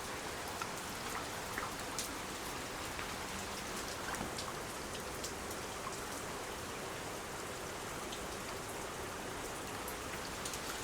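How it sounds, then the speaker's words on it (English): Steady rain falls in an even, unbroken hiss, dense with scattered droplet ticks striking nearby surfaces, with no voices and only the wash of water throughout. "We can listen to the rain."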